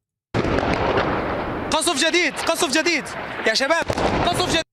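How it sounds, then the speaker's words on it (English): A heavy, sustained roar of an Israeli airstrike explosion in Damascus, Syria, rolls on loudly from the start while agitated voices shout and talk over it for the second half. "Here's the moment of explosion that sent smoke billowing into the sky."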